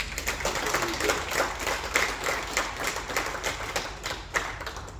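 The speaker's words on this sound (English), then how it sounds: "let's give a round of applause" Steady applause from a crowd at a state fair 4-H show, many hands clapping in a dense, even patter with a few sharper claps standing out.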